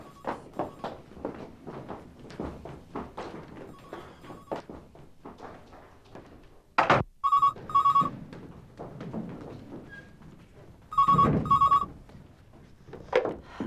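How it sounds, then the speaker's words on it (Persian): A telephone ringtone chirps in short electronic bursts, two ring groups separated by footsteps and rustling movement in a quiet room, fairly loud and close. "تلفن شما زنگ میزنه."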